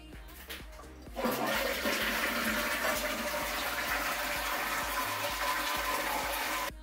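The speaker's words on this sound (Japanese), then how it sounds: "止めたらタンクの水が空になるまで水を流します。" A household toilet flushes to drain its tank after the supply valve has been shut, a loud sustained rush of water that starts abruptly and roars steadily until the end.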